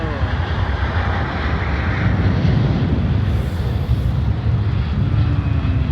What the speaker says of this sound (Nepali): उतापट्टि जहाज त देख्यौ